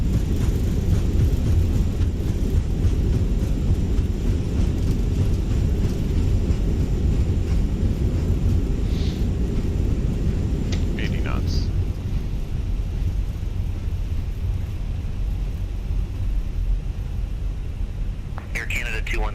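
Thrust reversers on an Airbus A320 landing at Vancouver in Microsoft Flight Simulator produce a loud, steady, low rumbling roar that fades slightly near the end, with cockpit voices talking over it.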